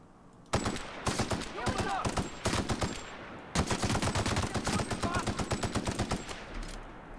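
Rapid automatic gunfire from a gun in The Outer Worlds, two long sustained bursts of fast, evenly spaced shots separated by a brief pause, loud and close.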